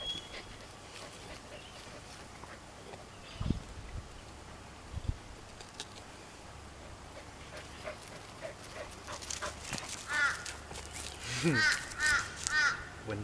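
A dog on a rural property barks in short bursts, mostly far off at first and then closer and more frequent toward the end, with crow-like calls and distant outdoor noise mixed in.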